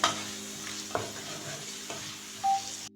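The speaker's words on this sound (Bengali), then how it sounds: "এখন মশলাটাকে আমি গ্যাস টু লো টু মিডিয়ামে রেখে 4 থেকে 5 মিনিট একটু কষিয়ে নেব।" Spice masala for chicken legs frying over low to medium heat, a soft constant sizzle with a few light stirs of a spoon through the paste, close and steady, no talking.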